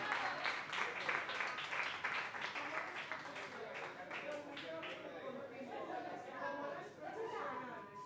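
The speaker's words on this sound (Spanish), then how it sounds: "Fuerte aplauso, Mar!" An audience at a talent music contest final applauds after a singer's performance, a dense burst of clapping that starts strong and gradually thins out, with voices and chatter mixed in.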